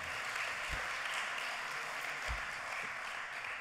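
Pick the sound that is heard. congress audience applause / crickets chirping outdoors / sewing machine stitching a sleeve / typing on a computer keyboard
congress audience applause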